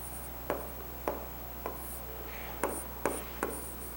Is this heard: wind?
no